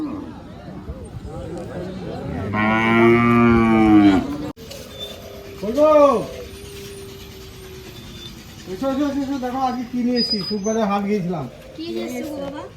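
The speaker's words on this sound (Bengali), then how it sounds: "এই হাটে গরু ছাগল হাঁস মুরগি সব কিছু পাওয়া যায়" Cattle low with loud, drawn-out moos at a busy village livestock market where cows, goats, ducks and chickens are sold, several calls in turn with people talking nearby.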